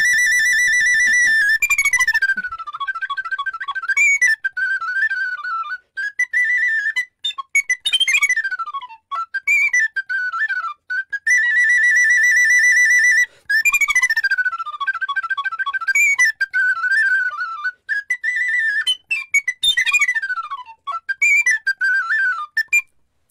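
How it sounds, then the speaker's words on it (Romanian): A Romanian shepherd's flute (fluier) plays the folk tune Horea Staccato, its bright, breathy whistling melody running alone for over twenty seconds in quick staccato bursts and rapid trills, loud and close. "Să cânt la fluier Horea Staccato."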